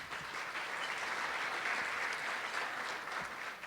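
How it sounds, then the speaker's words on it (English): An audience at a senior hall of fame awards ceremony gives a sustained round of applause, a dense, even roar of many hands clapping at a moderate distance, steady from start to finish without speech. "So give yourselves a round of applause."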